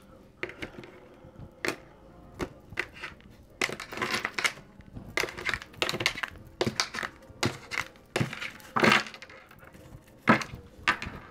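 A deck of oracle cards being cut and shuffled by hand, giving a run of close, crisp card snaps and riffling flicks in irregular bursts with no talking.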